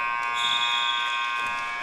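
A harsh electronic basketball game buzzer at a high school game blares in one long, steady tone, loud and unbroken for nearly two seconds.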